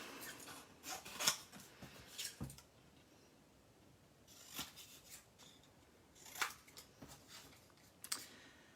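Scissors snip through Queen Anne's lace flower stems in a few separate crisp cuts, some in quick pairs, close and fairly faint against a quiet room, with pauses between clusters of snips.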